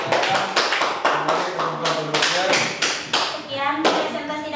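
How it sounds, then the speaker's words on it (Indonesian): A small classroom group gives applause after a presentation, scattered sharp claps in irregular bursts with speech mixed in. "Kita berikan tepuk tangan."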